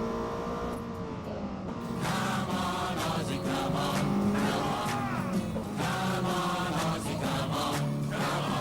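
Race car engine in Gran Turismo 7, a steady loud harmonic drone that climbs and drops in pitch through repeated revs and gear shifts, with no talking over it.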